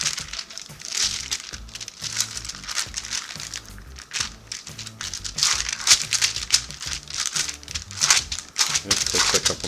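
Continuous crinkling and crumpling of parchment paper, close and fairly loud, with dense rustling pulses throughout.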